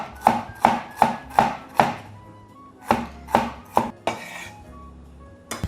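A knife chops ginger on a wooden board in sharp, evenly spaced thuds, a run of five quick strokes, then three more after a short pause and a final knock, close and clear with no speech.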